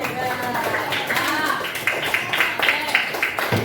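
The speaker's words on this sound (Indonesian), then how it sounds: "Tepuk tangan." A third-grade class claps briefly in a quick, uneven rhythm, mixed with children's voices talking and calling out.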